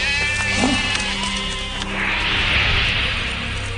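Sheep and goats bleat close by over a steady background hum, with a wavering cry early and another drawn-out call later.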